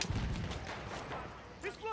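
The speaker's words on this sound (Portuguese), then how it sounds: "Vou jogar uma granadinha aqui, ó." A grenade blast in Call of Duty Black Ops 3 gives a dense, rumbling boom that fills the whole short stretch, with a voice faintly heard near the end.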